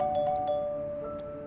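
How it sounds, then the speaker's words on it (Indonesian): A doorbell rings inside an apartment, a few clear chime tones with a ringing tail, followed by a second ding around a second in, alone with no talk. "bel berbunyi"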